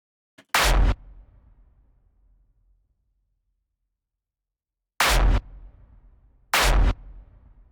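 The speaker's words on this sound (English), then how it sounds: "This is our kick." Three hard industrial kick drum hits ring out with a long reverb tail. The first sounds alone and decays slowly, then two more heavy booming hits follow a few seconds apart, loud and close.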